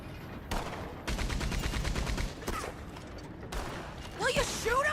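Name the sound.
MG42 machine gun firing in video game Red Dead Redemption 2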